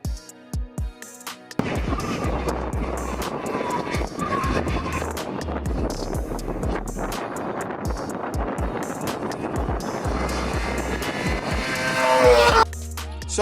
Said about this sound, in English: the note from this exhaust, as standard, is simply ear-orgasmic.